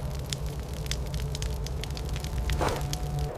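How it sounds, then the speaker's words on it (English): A heated river stone, taken from a fire with tongs, dropped into a wet leather boot sets off a steady steamy crackle and fizz, with one brief louder hiss burst partway through, close and continuous. "Dropped inside the leather boot, the stone dries out moisture immediately as steam."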